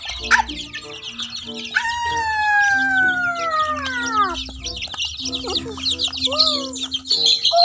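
Young chickens call in a noisy cluster, with high chirps and clucks rising and falling over several seconds, loud and close, while people talk nearby.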